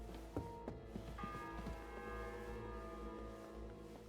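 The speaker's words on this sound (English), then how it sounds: "The fourth bell." A bell tolls in Kingdom Come Deliverance 2, its long ringing tones hanging and slowly decaying over a quiet medieval backdrop, soft and at a moderate distance with no talk.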